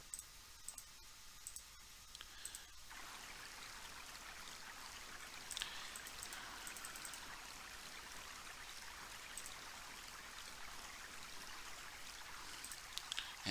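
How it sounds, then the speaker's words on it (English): Water skins being filled in the VGA version of Quest for Glory 2: after a few soft clicks, a quiet, continuous trickling stream of water begins and runs on faintly to the end. "let's go ahead and fill up our water skins"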